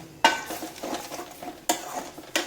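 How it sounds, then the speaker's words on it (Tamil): Kurma mixture being stirred in a pan, with sharp spoon scrapes against the metal at the start, middle and end between softer stirring sounds, close and clear with no voices. "உடனே நல்லா மிக்ஸ் பண்ணி விட்டுருங்க"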